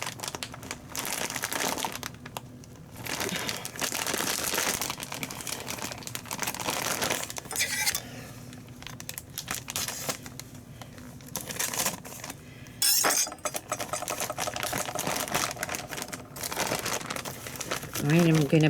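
An opened plastic bag of shredded sharp cheddar cheese crinkles loudly and continuously close by, with bursts of rustling handling, while a person talks throughout.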